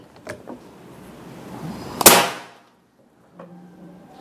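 A Bocap Big Game Predator 500cc PCP air rifle fires a single sharp shot on a medium power setting, loud and close, with faint clicks before it and a short mechanical handling sound after.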